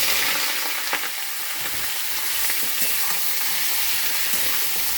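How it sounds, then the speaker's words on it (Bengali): Panch phoron and mixed vegetables with green chilli sizzle steadily in a hot pan, a continuous close frying hiss with occasional stirring scrapes and no talk. "একটু পাঁচফোড়ন দিয়ে দিচ্ছি, একবারেই বসাবো সব সবজিগুলো।"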